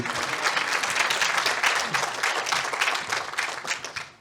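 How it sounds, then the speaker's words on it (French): An audience breaks into dense, sustained applause for a guest at an evening screening and conversation event, a loud wash of many hands clapping that fills the room and tapers slightly at the close. "Je pense que vous pouvez applaudir Madame Tellier"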